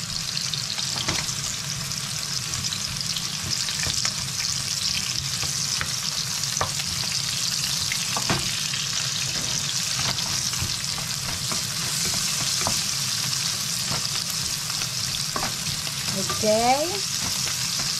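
Onion goes into browned ground meat in a pan and fries with a loud, continuous hiss, broken by occasional spatula taps and a short spoken word near the end.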